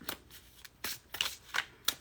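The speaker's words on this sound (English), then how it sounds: "I'm really trying to shuffle these so that we don't get the same cards" A deck of oracle cards is shuffled by hand in several quick riffling bursts, crisp and close with brief pauses between them.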